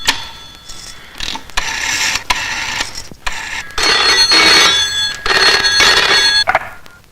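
An old telephone bell rings while someone places a call in a Hindi film scene: loud, close, in repeated bursts of metallic trilling separated by short gaps, with no talk over it.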